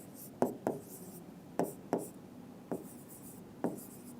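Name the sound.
writing numbers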